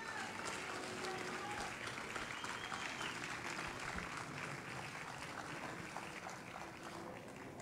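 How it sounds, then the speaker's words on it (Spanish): A church congregation applauds in a sustained, dense wash of clapping that holds steady throughout, with voices faintly mixed in. "Si usted lo cree, dele un aplauso al Señor."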